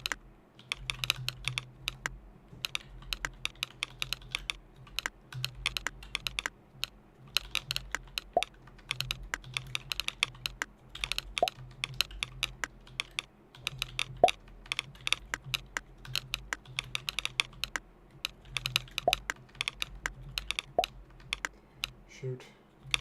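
Continuous rapid typing on a computer keyboard during a typing-practice session, dense clacking keystrokes in steady bursts at close range, with a faint voice occasionally under the clicks.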